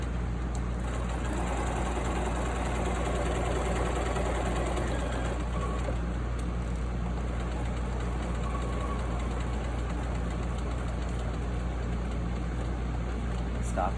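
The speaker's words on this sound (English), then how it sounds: "now we're going to come to the machine. Okay. And we're going to sew down to that intersection." A sewing machine stitches steadily down to a seam intersection, its motor a continuous low hum with a fine rapid needle chatter, even in level and unbroken throughout.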